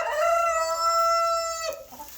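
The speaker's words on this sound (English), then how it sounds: "that rooster's loud" A single loud rooster crow, drawn out for about two seconds and close by, with no talking.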